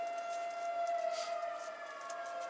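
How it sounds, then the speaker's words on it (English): A civil defense siren wails at a steady pitch, a sustained tone with harmonics heard from a distance, echoing faintly outdoors without talking. "we gotta wait for the zombie sirens"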